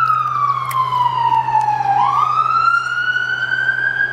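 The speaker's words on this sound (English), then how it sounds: "Oh, here comes the ambulance." An ambulance passes through a snowy town with its siren wailing loud and close: a single sweeping tone falls in pitch and then climbs again over a steady low engine hum.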